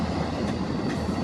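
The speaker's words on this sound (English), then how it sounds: "And CPKC 101's coming up also, so we get a 4th train today." A CPKC freight train passes close by with a loud, steady rumble of wheels and railcars rolling along the track, a continuous roar without voices.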